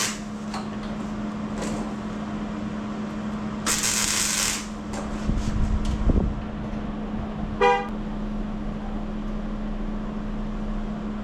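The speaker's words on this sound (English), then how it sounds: "Every time she comes home and I'm out in the garage, she honks that dang horn." A single brief car horn honk outside a home garage workshop, heard midway through over a steady electrical hum and scattered shop clatter.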